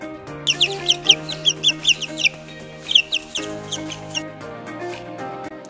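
A farmyard chick peeps in a quick series of high, bright chirps, about a dozen in two bursts, close and fairly loud over a steady tonal background with no talk.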